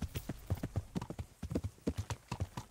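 A horse gallops in Kingdom Come: Deliverance video game, its hooves pounding in a fast, even, rolling rhythm, close and clear, with no one talking.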